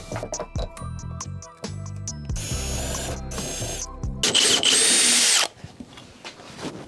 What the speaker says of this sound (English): you're going to drill in the center of all of your pieces